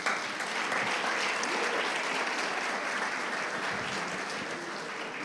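A church congregation claps steadily through a worship service, a dense, even wash of applause from many hands that holds at a constant level and fades slightly toward the end.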